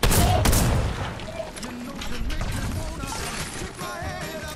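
Gunfire from a gun in the Fortnite video game: dense bursts of shots with a sharp loud opening crack, then steady in-game firing and effects with a voice talking over it.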